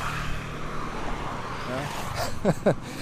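A car rolls past on a street in rural Vietnam and swells briefly near the end over a continuous background of traffic and street noise.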